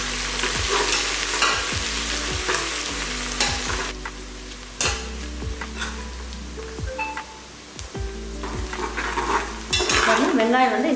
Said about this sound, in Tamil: வெங்காயம் வந்து இந்த அளவுக்கு நல்லா வதங்கிடுச்சு, நல்லா சுருண்டுருச்சு